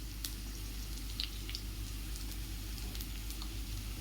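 Sliced onions frying in a pan for quick jeera rice, giving a steady, soft sizzle with faint pops and crackles throughout and no talking.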